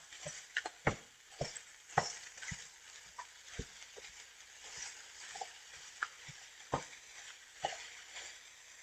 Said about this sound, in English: So I keep my temperature high to cook the meat.